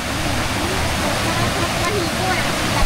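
River water rushes continuously in a dense, steady hiss and roar, loud and close, with no breaks across the whole stretch.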